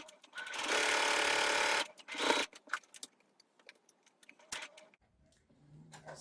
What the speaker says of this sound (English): Stitch forwards and back at the end of each row.